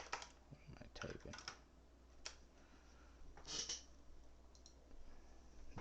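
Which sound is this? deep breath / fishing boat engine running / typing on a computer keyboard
typing on a computer keyboard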